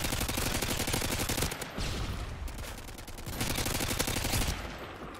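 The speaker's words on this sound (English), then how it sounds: "Shooting damn UAV." Sustained automatic gunfire in Modern Warfare 2 (2009) on Xbox, aimed at an enemy UAV: loud rapid bursts rattle almost continuously for several seconds, with short gaps between volleys.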